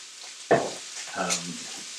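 Sausage frying in oil in a pan, a steady soft sizzle with a utensil scraping or stirring at about half a second and again near the middle, close and fairly quiet.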